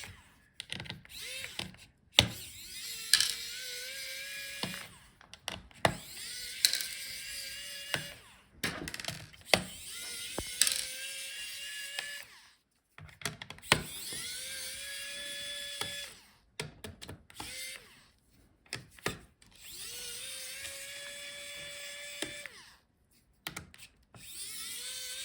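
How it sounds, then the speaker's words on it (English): Screws are driven out of the heatsink and fan assembly of an HP Victus 15 laptop, likely with a small powered driver that whirs in repeated short bursts, separated by clicks and handling noise close to the listener. "So unscrew all the screws for the heatsink"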